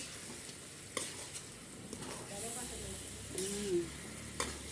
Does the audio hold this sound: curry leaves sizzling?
yes